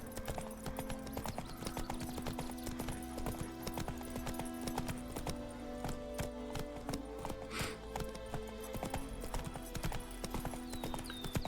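Roach the horse clip-clops at a steady gallop in The Witcher 3, hooves drumming continuously over game music and ambience, with an occasional whinny.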